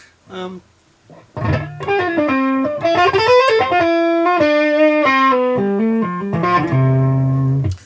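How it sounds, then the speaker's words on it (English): Overdriven electric guitar through a Boss OD-200 overdrive pedal, playing a short phrase after a brief opening note, thick and saturated with sustained harmonics, loud and close. "like an overdriven tube amp to me, anyway"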